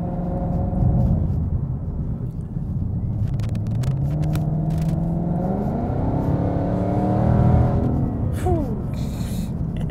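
A 2018-2023 Ford Mustang GT with an Edelbrock supercharger and automatic transmission accelerates on a back road, its engine note rising through a gear change as a deep, loud, continuous drone with supercharger whine over the rumble.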